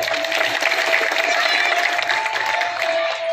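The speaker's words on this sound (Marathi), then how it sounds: "एकदा जोरदार टाळ्या होऊन जाऊ द्या" A crowd at a Sant Ravidas Maharaj Jayanti event claps steadily throughout, a dense, even applause heard from within the audience.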